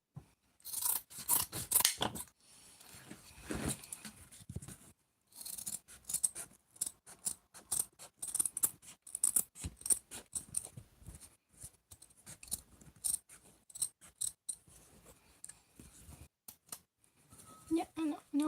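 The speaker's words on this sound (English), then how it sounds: "I am basically just cutting it out." Scissors snip and rasp through paper while cutting out mask pieces, a steady run of close, crisp cuts in bursts with short pauses between them.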